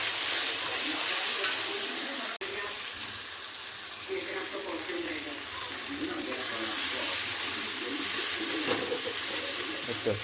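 Spices with garlic paste, ginger, green chilli and chopped tomato frying in a pan for bottle gourd with prawns, a steady hiss of sizzling under irregular stirring scrapes and one sharp knock, with faint voice in the background.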